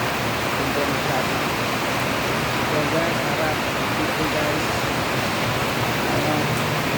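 Heavy rain pours down steadily in a dense, constant hiss over deep floodwater, loud and close throughout, with someone talking over it.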